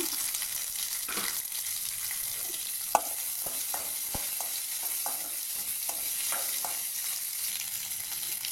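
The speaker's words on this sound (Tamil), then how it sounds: "நெல்லிக்காயை நல்லா எண்ணெயிலே வதக்கிங்க" Small gooseberries being stirred and sautéed in oil in a pan, with a steady soft sizzle and scattered scraping clicks from a spoon, no talking over it.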